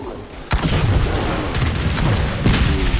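Explosions in Halo: Campaign Evolved, a level with hunters and rocket launchers: three sharp booming blasts at irregular intervals, each leaving a rumbling tail over continuous battle noise.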